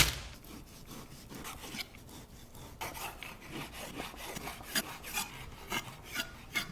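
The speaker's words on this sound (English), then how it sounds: "In cutting guanciale, I want to go about 3/4 of an inch wide and a good solid 1/2 inch thickness." Knife slicing guanciale on a cutting board, giving soft, rhythmic rasping strokes and scrapes against the board that grow a little sharper toward the end. The sound is fairly quiet and close, with no talking.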